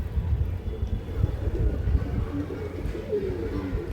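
Pigeons for sale in Hooghly coo in a steady low rumbling chorus, close and fairly loud, with a constant murmur of overlapping calls and no clear talk.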